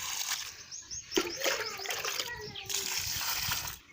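Water poured from a bucket to soak soil for building a clay stove, outdoors: close splashing and sloshing that starts abruptly, gurgles for a few seconds and then fades.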